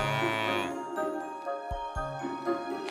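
A cartoon cow lets out one long, drawn-out moo that slides down in pitch, loud at first, then gives way to light tinkling music with a couple of soft low thumps.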